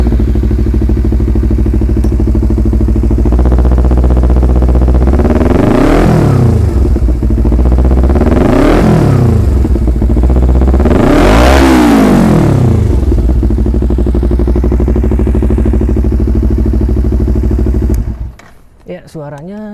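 A Kawasaki Z250 fitted with an R9 Zeta Series muffler, DB killer removed, idles loudly and then revs hard three times in rising, swelling bursts before settling back to idle and cutting off, close to the bike.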